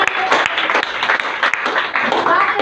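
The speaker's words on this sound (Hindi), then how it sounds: "जोरदार ताली दे मैडम" Clapping from an audience at a stage event, uneven and moderately loud with scattered sharp claps, while voices are heard talking over it.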